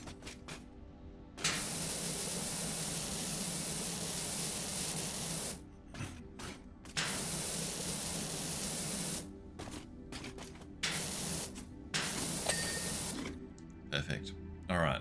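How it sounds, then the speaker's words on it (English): Pressure washer spraying water onto flames in Power Wash Simulator, long loud hissing bursts broken by abrupt stops and quick choppy taps, with a voice talking in the gaps. "watch out, flames, we're going to spray you with some water"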